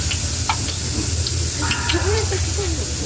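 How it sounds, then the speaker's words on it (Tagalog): Talong (eggplant) frying in a pan for pork binagoongan, a steady close sizzle with faint stirring clicks and a murmuring voice in the background. "doon po magpiprito po sa talong"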